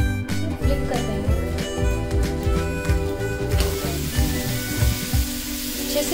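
A Jain vegetable tandoori pudla sandwich on bread sizzles steadily in butter in a hot pan just after being flipped, the frying hiss continuous beneath background music.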